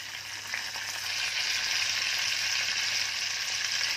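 Mustard seeds, cumin, coriander and chopped curry leaves hit hot oil for a Mandeli fish curry, a bright, dense sizzle that swells after the first second and then holds steady, close and uninterrupted by talk.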